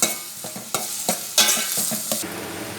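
Curry leaves, garlic and onion sizzle in hot oil for a Mangalorean tempering, with the hiss broken by several quick scraping stirs of a spoon against the pan. The sound is close and has no voices.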